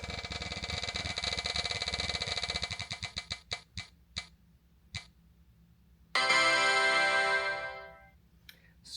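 A prize wheel spins with a fast, loud run of ticks that slows and spreads out as the wheel comes to rest, followed by a bright ringing chime or jingle that fades away.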